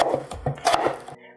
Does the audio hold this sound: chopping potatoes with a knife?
yes